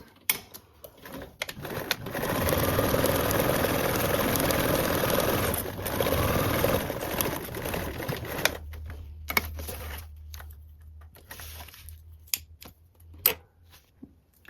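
A sewing machine stitches a quarter-inch seam on a small fabric tutorial piece, running steadily for about eight seconds, then stopping and giving way to a few sharp handling clicks and taps.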